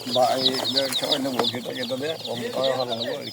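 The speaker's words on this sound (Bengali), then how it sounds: "মুরগির বাচ্চা কিনবেন নাকি" Chicks cheep and cluck continuously, with a crowd of birds chattering close by and a voice in the background, as at a poultry market stall.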